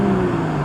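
A Porsche 986 Boxster fitted with a Fabspeed Supercup exhaust accelerating, heard from inside the car as a loud, steady engine drone with a rising tone over a brief moment.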